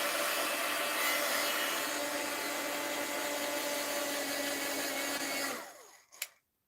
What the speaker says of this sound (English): Let's hit that with the heat gun.